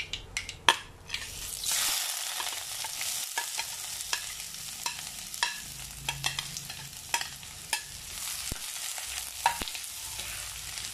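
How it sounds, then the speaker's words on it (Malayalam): Chopped onions being sautéed and stirred in a pan for a Kerala prawn curry, a steady gentle sizzle with frequent sharp spatula scrapes and taps, close-up, no talking. "നല്ലപോലെ ഇളക്കി നല്ലപോലെ ആ സവാളയെല്ലാം നല്ലപോലെ ഒന്ന് വാടണം."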